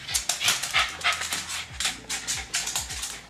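A dog pants hard and rhythmically right up close after struggling through a brushing, quick breathy huffs repeating steadily with no talking over them.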